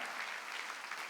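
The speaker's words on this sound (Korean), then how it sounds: "박수 치라 이게야." A church congregation claps together during a Sunday worship sermon, a dense, steady burst of applause from many hands filling the room for about a second, with no voices standing out.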